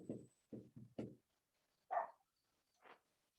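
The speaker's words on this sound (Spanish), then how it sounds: "Lo único que estoy escuchando es un perro que está ladrando." A dog barks outdoors in a few short, separate bursts, fairly faint with quiet gaps between them.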